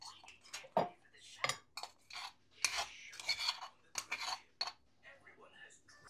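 A spoon picks bones out of cooked fish being prepared for a mashed fish dish, making quiet, intermittent scrapes, rubs and light clinks against a plate in short separate strokes.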